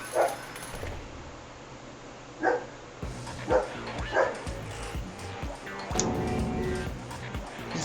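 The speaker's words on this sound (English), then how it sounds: "Start with the dog in the background." A dog barks and yips a few times in the background of a Danganronpa trial scene, set against busy game sound and a steady noisy bed.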